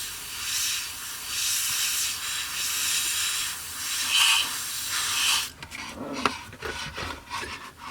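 An airbrush hisses in steady sprays, pausing briefly between passes, then stops, leaving soft handling noises and small clicks nearby.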